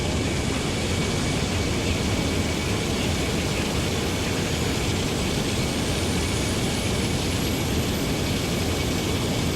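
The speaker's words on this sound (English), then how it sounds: "Alright, we're going to start engine 1 first." An Airbus A350-900 jet engine starts up in Microsoft Flight Simulator 2024, a steady, loud broadband roar with a faint rising whine, continuous and unbroken throughout.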